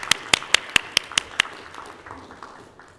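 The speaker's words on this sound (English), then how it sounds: "So if I could get a round of applause for those guys" A few sharp, distinct hand claps ring out in a quick, uneven burst at a school board meeting honoring student athletes from the crew team, then thin out to a faint patter within about a second and a half.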